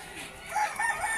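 A Dominican black hen (gallina mora) calls inside a poultry shed in Trujillo, Peru, a short drawn-out crowing cry at moderate distance without speech.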